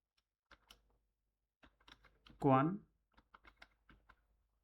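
Scattered clicking keystrokes on a computer keyboard come in short bursts while entering text in a Word document, with one brief voiced sound in the middle; quiet and close.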